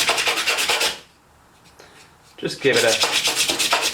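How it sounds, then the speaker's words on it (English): Wood sanded by hand with 120 grit sandpaper on a primate rope ladder, giving loud, steady back-and-forth rasping strokes, a quiet pause, then brisk rubbing again, with a brief spoken phrase. "we're going to get our sandpaper again, our trusty 120 grit sandpaper"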